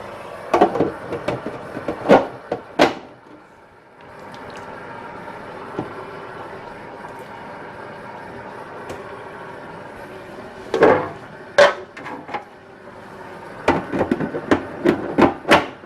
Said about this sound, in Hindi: और अब मैं स्टीमर में चिकन को रखकर तकरीबन 30 मिनट के लिए पका लूँगी।